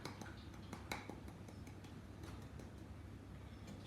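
A spatula mixes Victoria sponge cake batter in a bowl as flour is added, giving quiet, repeated scraping and light tapping clinks against the bowl in an uneven rhythm over a low steady hum.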